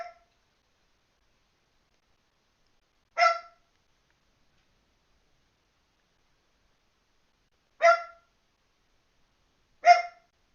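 A puppy gives four short, sharp yips, isolated and spaced irregularly across near silence, fairly close and clear.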